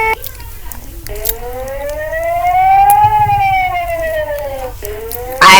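An Emergency Alert System alarm siren wails in a loud, steady tone that rises and then slowly falls, with a short break and restart near the end.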